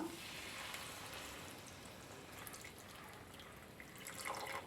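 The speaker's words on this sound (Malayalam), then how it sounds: "ഇനി നമുക്കിതിലേക്ക് തയ്യാറാക്കി വെച്ചിരിക്കുന്ന ശർക്കര പാനി ഒഴിച്ചു കൊടുക്കാം" Jaggery syrup pours into a pan of chana dal payasam with a soft, steady wet rush and faint sizzle, quiet and unbroken, with no voice.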